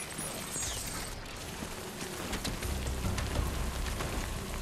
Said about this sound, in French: C'est vrai qu'il pleut terrible.